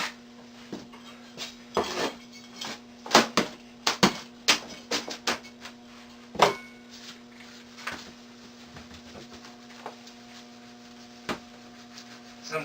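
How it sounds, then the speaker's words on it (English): Fresh compost is worked by hand into leftover potting soil in a container, giving irregular scraping, rustling and dull knocks spread through the clip, close and fairly quiet against a faint steady hum. "I'm going to put it back into some of this potting soil that I have left over from last year to revitalize that soil"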